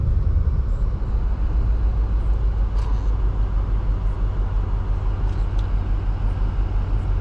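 A 2025 BMW M8 Competition on the road, heard from inside as a steady, loud engine and road rumble that holds constant throughout with no voices.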